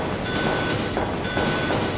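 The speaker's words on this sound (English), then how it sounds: "Annette is running the train." Steady rumble of a moving train in the Resident Evil 1.5 prototype, with a continuous rolling clatter and faint rhythmic wheel clicks, loud and close throughout with no voices.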